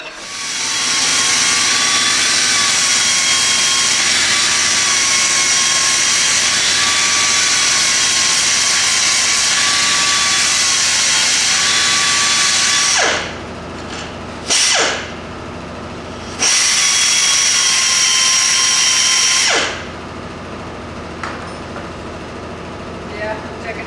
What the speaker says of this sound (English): Grind a little bit off of there.